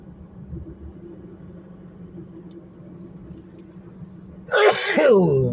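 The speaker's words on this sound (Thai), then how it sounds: "จามอัดเชยอัดเชย" A single loud sneeze bursts out near the end, after a steady low rumble of a car driving along a road in Nakhon Thai district, Phitsanulok, Thailand.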